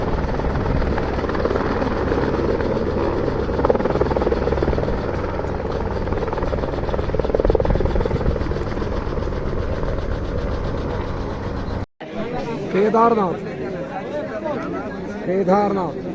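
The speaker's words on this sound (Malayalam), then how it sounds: "കേദാർനാഥ് ഹെലിപ്പാഡിലേക്ക് ഒരു ഹെലികോപ്റ്റർ വന്നിറങ്ങുന്ന ദൃശ്യം." A helicopter lands at the Kedarnath helipad in the Himalayas, its loud, steady rotor and engine roar filling the first twelve seconds before an abrupt cut to quieter outdoor ambience with people talking nearby.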